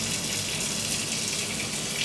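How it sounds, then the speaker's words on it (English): Catfish pieces are rinsed under a running kitchen tap, giving a steady, close rush of water that runs unbroken and fairly loud with no talking. "We're just going to rinse these off, finish trimming them."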